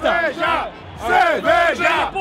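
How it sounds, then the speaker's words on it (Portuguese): América football supporters chant in protest in a packed stadium at a Série D final. Loud, rhythmic bursts of massed voices rise and fall in repeated phrases, filling the stands. "Torcida do América protesta"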